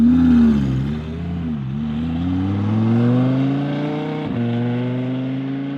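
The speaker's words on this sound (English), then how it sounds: "So we're going to do a few flybys with open and closed valves" An Audi R8 V10 fitted with an Armytrix exhaust and its valves closed makes a steady droning engine note with a smooth, gliding pitch. It stays fairly loud and subdued throughout, with no voices.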